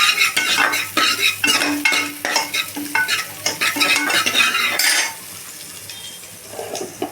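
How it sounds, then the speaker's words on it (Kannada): Chopped onion fried in hot oil for mutton sambar, with a spatula scraping and clinking against the pan in quick rhythmic strokes over a loud close sizzle that drops to a quieter hiss near the end, with no talk. "ಎಣ್ಣೆ ಹಾಕ್ಕೊಂಡಿದ ತಕ್ಷಣ ನಾವು ಅರ್ಧ ಈರುಳ್ಳಿ ಕಟ್ ಮಾಡ್ಕೊಂಡಿರೋದು ಅದನ್ನು ಹಾಕೋಣ."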